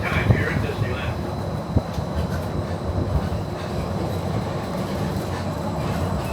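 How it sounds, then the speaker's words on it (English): Riding aboard the Disneyland Monorail Red toward Tomorrowland, a steady rolling rumble with faint wheel clatter and a few light clicks fills the cabin, while a voice talks over it. "you're traveling aboard Monorail Red on a one-way trip to Tomorrowland"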